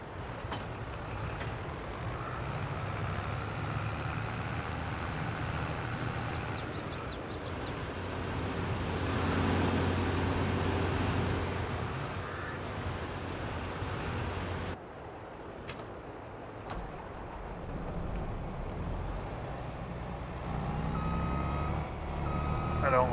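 Farm vehicle repositioning a trailer in a farming video game, steady reversing beeps over a low diesel engine drone, moderately loud and continuous with a brief dip partway through.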